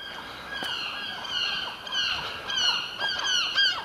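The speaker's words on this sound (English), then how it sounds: "Seagulls are still about." Several gulls call in short, repeated squealing cries, fairly near, with faint background noise between them.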